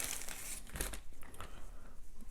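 Plastic crinkles and crackles up close in short irregular rustles and crunches as the bag holding an action figure is handled and pulled open.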